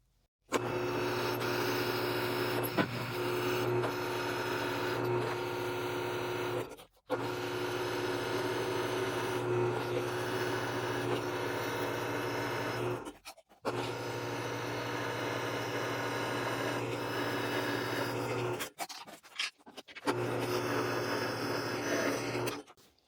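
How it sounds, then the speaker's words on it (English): An 11/32 drill bit grinds steadily through steel in long continuous runs, stopping briefly three times before starting again, with a constant motor hum throughout. "just going to drill all the way through this piece with the 11/32 bit"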